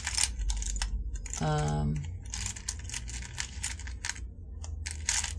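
Small hard buttons clatter and click as someone rummages through a drawer full of them, with one brief spoken word.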